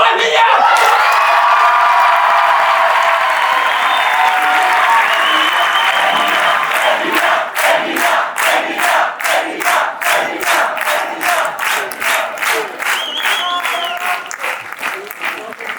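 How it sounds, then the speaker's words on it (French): A loud student audience in a university amphitheatre breaks into thunderous applause with cheers, whoops and shouting, which settles into rhythmic unison clapping in the second half. "Je vous demande un tonnerre d'applaudissements pour Emilia!"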